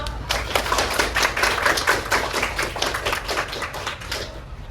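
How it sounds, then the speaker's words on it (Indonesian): Students in a classroom clap for a classmate who answered correctly, a steady run of rapid, dense hand claps lasting several seconds at moderate volume. "Beri tepuk tangan untuk temannya."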